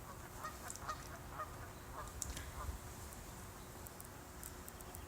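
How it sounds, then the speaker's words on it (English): Faint, distant geese honk in scattered bursts over a low background rumble. "I thought the geese were fighting at first."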